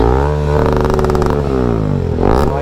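A motorcycle engine revs hard through its silencer close by, the pitch climbing and falling in strong sweeps with a rattling, clattering edge as it is blipped repeatedly.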